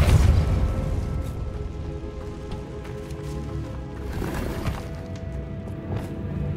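A Depulso spell cast in Hogwarts Legacy lands as a loud, close boom with a crashing burst at the start, followed by a dense rumbling wash that swells again midway before tailing off.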